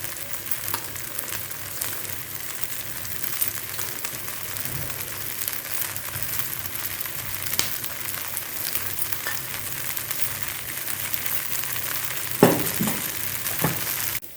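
Jowar dosa frying in generous oil on a pan makes a steady, crackling sizzle throughout, with a few clattering utensil scrapes toward the end.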